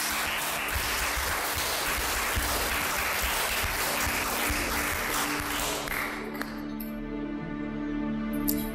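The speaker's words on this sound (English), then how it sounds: "Clap for her, please." An audience at an African reality TV reading competition gives a contestant loud, dense applause for about six seconds before it dies away into quieter sustained tones.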